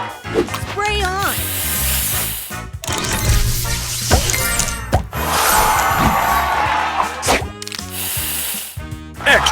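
The spray effect from the Match Masters puzzle video game comes as bright hissing bursts mixed with clinks, crashes and musical flourishes, while game announcer voices call out cheerfully over the busy, loud sound.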